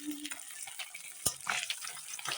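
Pabda fish frying in a pan of hot oil, giving a steady, close crackling sizzle with a few sharp pops and clinks of a utensil.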